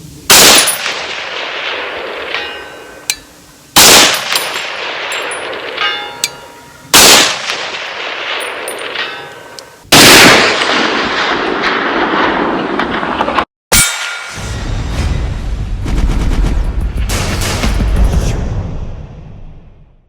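A PSA 18-inch .308 Sabre AR10 rifle fires four loud, widely spaced shots with sharp cracks and ringing decay, then a longer burst of rapid fire near the end, with no talking.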